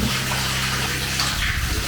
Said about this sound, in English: I notice that the shower's running all the time